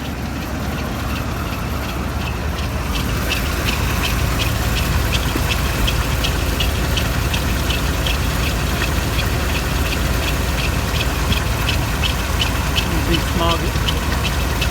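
A Ford 351W V8 idles with a deep, regular knocking tick that repeats evenly under the steady engine drone, loud and close throughout.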